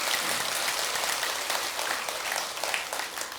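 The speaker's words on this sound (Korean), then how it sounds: "우리 주심한테 박수 한번 더 보냅시다" An audience at a Buddhist temple dharma service claps together in a dense, sustained round of applause, loud and even throughout like a steady rush of many hands.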